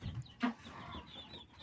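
Broody hen clucking at close range in a small coop, with a couple of soft low clucks and one sharper cluck.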